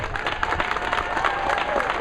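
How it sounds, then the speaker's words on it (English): An audience at an autism advocacy gathering in a legislative building claps, a continuous dense patter of many hands, fairly loud and steady throughout. "Give yourself a big round of applause."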